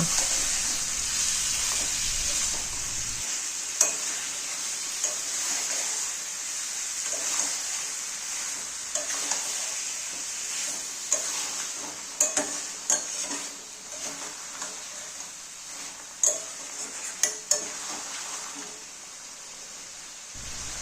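Potatoes and chicken stir-fried in a pan for a lau chicken dish, giving a steady hiss of sizzling with scattered scraping and clinking stirring strokes, louder bursts toward the end, close and without talk.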